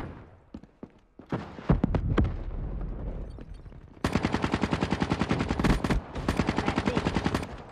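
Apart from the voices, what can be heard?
gunfire in the video game Black Ops 3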